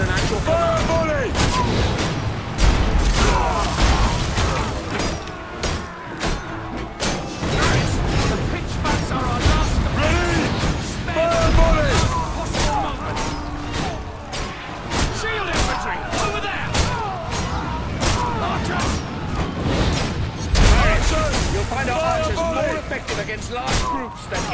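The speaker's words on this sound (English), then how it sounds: "Darius, our archers are in position and at your command. Fire volley!" Archer volleys and scorpion bolt fire during a Roman battle in the game Ryse: Son of Rome, a dense run of sharp impacts, thuds and mechanical clanks with shouted voices and battle noise continuing throughout.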